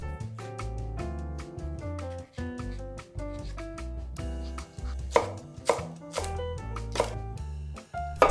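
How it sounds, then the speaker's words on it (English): A knife cuts deseeded green peppers into strips on a cutting board, with soft irregular chops under background music and a few sharper knocks toward the end. "Then cut the peppers into strips."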